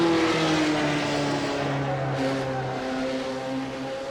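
A Singer Porsche engine in a driving video game drones steadily with a rough, buzzing, wavering tone, sounding strained and shaky throughout with no talk over it.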